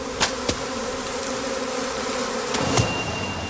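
Honey bees buzz steadily around straw bee skeps at the end of August, with a few louder passes as individual bees fly close by.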